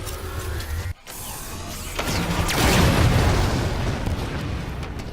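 A Wraith tank destroyed by an explosion in the video game Halo 5, a sudden cut followed by a swelling, rumbling blast that builds and lingers loudly for several seconds, with no talking.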